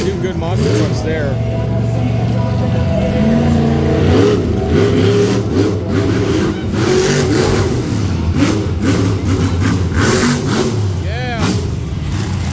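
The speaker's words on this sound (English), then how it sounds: "Good monster trucks there." Monster truck engines rev loudly and continuously at an outdoor monster truck show in Frederick, Maryland, with bursts of acceleration rising over a steady roar while people talk and crowd noise fills the background.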